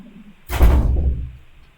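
A classroom door swings open with a single heavy thump and a muffled rush of air that fades out over about a second, close by and fairly loud.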